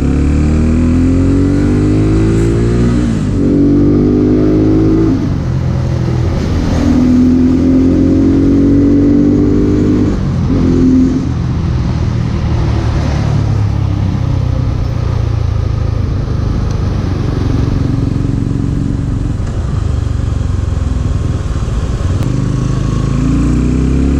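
A superbike engine revs and accelerates on city streets in Aizawl, Mizoram, a loud, steady, close drone with rising and falling pitch sweeps as the rider shifts through gears.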